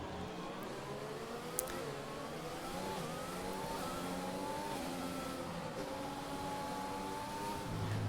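The steady hum of a Formula 1 car engine in the F1 2020 racing game, running slowly behind the safety car at the Chinese circuit, stays faint and even with gentle pitch shifts.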